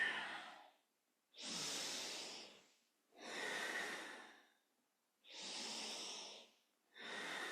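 Deep, rough breathing during a Sufi grind kundalini yoga exercise. Long, loud inhales and exhales alternate in a slow, steady rhythm, close to the microphone, with short silent pauses between them.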